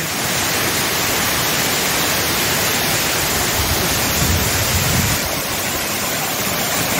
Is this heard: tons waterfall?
yes